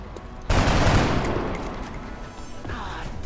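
Gunfire from the XCOM: Enemy Unknown video game breaks out as a sudden loud burst of shots that rolls on for a few seconds and then slowly fades.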